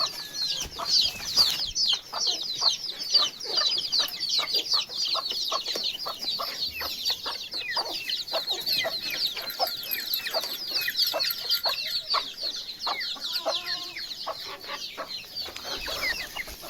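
Many hens on a farm cluck and chatter steadily as they are let out, a thick layer of overlapping high calls close by, continuous throughout with no voices.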